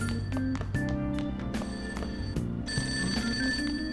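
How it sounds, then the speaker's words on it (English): A cell phone rings in the video game Persona 5, its tonal electronic ringtone repeating in steady pulses, loud and close with no talking over it. "That ringing sound isn't coming from my cell phone."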